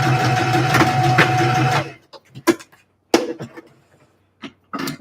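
A sewing machine runs steadily for about two seconds while stitching a quarter-inch seam at a vest neckline, then stops, leaving a few faint clicks and handling noises.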